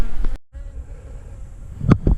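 Honeybees drone around an opened hive box on a cloudy, overcast day, a steady close buzz with a couple of louder swells as bees pass near.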